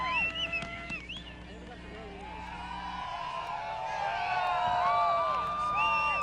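Crowd at a 1996 men's snowboard finals at Kirkwood, cheering and whooping across the slope, with the noise growing from a distant murmur into a broad, sustained roar that carries many overlapping shouts and whistles.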